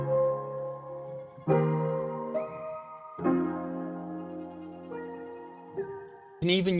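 Chopped Portal granular texture slices with delay, a series of sustained tonal chunks that change pitch in abrupt steps, each cut cleanly into the next and trailing echoes, ending in a brighter burst.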